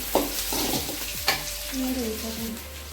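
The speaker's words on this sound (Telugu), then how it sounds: "కరివేపాకు బాగా వేగనిచ్చాలి" Curry leaves fry in a pan for a goat blood fry. A loud, close sizzle is broken by a few sharp stirring scrapes and spatula strokes.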